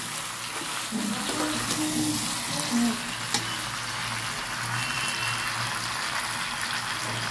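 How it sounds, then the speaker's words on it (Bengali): Mutton sautéed for Bengali kosha sizzles steadily in a pan with a close, continuous frying hiss and light stirring. "আর কি আওয়াজ দিচ্ছে, মটন কষিয়ে গেছে"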